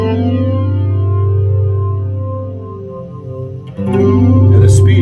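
An electric guitar plays through a vintage 1970s A/DA Flanger, sustaining a loud, clean chord with sweeping harmonic shimmer that swells into a new struck chord with a jetlike swoosh near the end.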